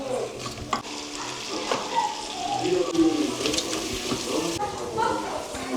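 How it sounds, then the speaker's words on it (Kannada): Onions fry in hot oil until brown for egg biryani, a loud continuous sizzle with stirring throughout, some watery bubbling and faint background voices underneath. "ಆನಿಯನ್ ಚೆನ್ನಾಗೆ ಬ್ರೌನ್ ಕಲರ್ ಟರ್ನ್ ಆಗೋವರೆಗೂ ಫ್ರೈ ಮಾಡ್ಕೋಬೇಕು."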